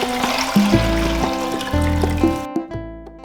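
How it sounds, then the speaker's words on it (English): Water poured from a bowl into a cooking vessel while making corned beef and cabbage, a steady close trickle and splash with a brief pause near the end and no one talking. "now we are going to add the water to the vessel"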